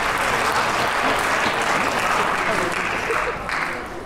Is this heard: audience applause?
yes